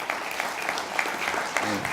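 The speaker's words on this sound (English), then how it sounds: "Round of applause." Audience applause welcoming a panelist onto the stage at a governance panel discussion, steady clapping throughout with a little crowd murmur.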